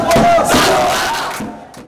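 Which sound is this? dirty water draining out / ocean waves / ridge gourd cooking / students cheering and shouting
students cheering and shouting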